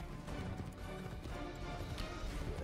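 Horse hooves galloping in Assassin's Creed III, a steady rapid clatter of hoofbeats running continuously at close range with no pauses.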